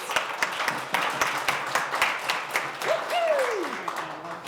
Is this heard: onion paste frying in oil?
no